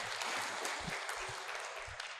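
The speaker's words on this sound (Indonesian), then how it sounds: "Ya, tepuk tangan." Audience applause at a mosque management sharing session in Yogyakarta, a steady wash of clapping that fills the short stretch at moderate distance, with a few low thumps underneath.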